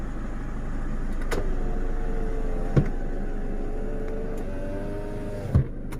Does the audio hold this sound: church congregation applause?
no